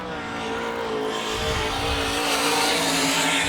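An All Star Circuit of Champions sprint car roars through a qualifying lap at Sarver speedway in Pennsylvania, its engine note loud and building as it nears, with a rough burst of tire noise partway through.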